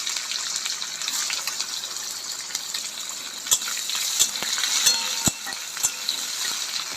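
Onion, bay leaf, dried chilli and cumin frying in oil, a steady hissing sizzle with sharp spoon clinks and stirring knocks scattered throughout, close and fairly loud, no talking.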